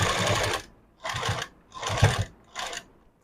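A sewing machine stitches a folded strip along a blouse neckline in four short bursts separated by brief pauses, close and clear with a rapid mechanical whir, and no talking.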